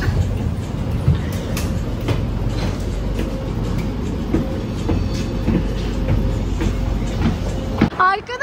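Interior of a moving train, a steady loud low rumble with faint rhythmic clicks of the rails throughout, a voice speaking over it, and the noise dropping away sharply near the end.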